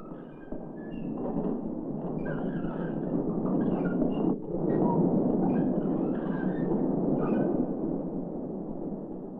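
A mine train on a 1960s Knott's Berry Farm gold-mine ride rumbles along steadily, a loud, continuous low roar with faint squeals and clanks above it and no talk.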